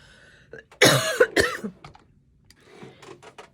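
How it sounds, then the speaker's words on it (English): Several harsh, loud coughs burst out in quick succession, then quieter shuffling and small noises follow. "Sorry about the coughing fit."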